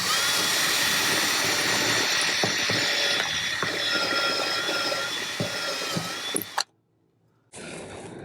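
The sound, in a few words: power drill drilling a pilot hole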